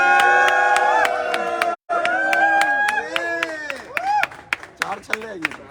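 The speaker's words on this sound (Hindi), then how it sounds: "जोरदार तालियां।" An audience claps during an Audi car unveiling ceremony, with sharp, fairly regular claps over loud, sustained voices that sound like singing or chanting. A brief silent break interrupts the sound midway.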